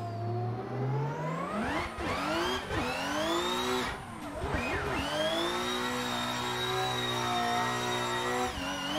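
A 2021 Toyota Supra Formula Drift car launches from a second-gear start, its engine revving hard and climbing steadily in pitch, loud and close, with a brief lift and re-rise and no talking over it.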